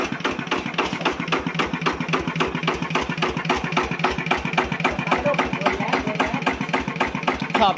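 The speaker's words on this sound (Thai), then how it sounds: "ก็เราได้เครื่องใหม่มาเนี้เราก็ต้องอุ่นเครื่องไว้เรื่อยๆนะครับรันดินไว้ก่อนนะครับ" A brand-new ZT180 engine idles during break-in, a steady rapid mechanical chugging with regular ticking pulses, close and continuous throughout with no talk.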